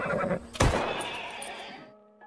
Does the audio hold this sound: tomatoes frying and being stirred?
no